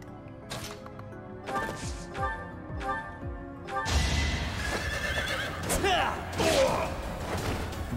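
A horse neighs and whinnies during a Fire Emblem Three Houses battle attack, with clip-clopping hooves, crashing impacts and game sound effects layered over a tonal score.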